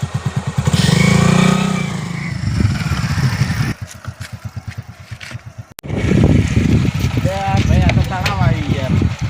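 A motorcycle engine runs steadily nearby with a throbbing, chugging idle that briefly drops and then returns stronger. People talk over it throughout.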